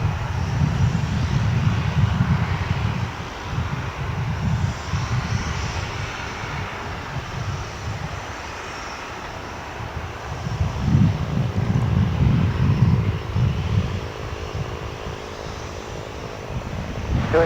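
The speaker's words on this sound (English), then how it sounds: "Let's see if we can follow along with that aircraft here as it makes the turn at the top of runway 18 left." A Boeing 737-900 turns at the top of runway 18 left at DFW, its engines giving a steady, loud, broad roar that swells and eases across the clip, with some wind noise on the microphone.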